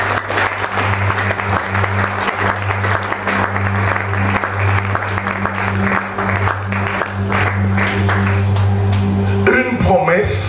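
A church congregation at a Sunday service breaks into sustained, loud applause that fills the room, with a steady low hum underneath, and it cuts off sharply near the end.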